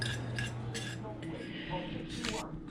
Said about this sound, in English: So we'll go ahead and get this all shredded up and ready to go.